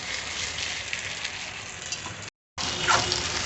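Pulao rice stirred in a small kadai over a medium flame gives a steady dry sizzling hiss, briefly cut off, then resuming with a louder scrape.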